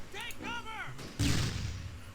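Tank cannon fire in the Close Combat wargame, with Shermans and a Panzer IV exchanging shots: a single heavy, booming blast bursts in partway through and decays into a rumbling tail, and a voice is heard just before it.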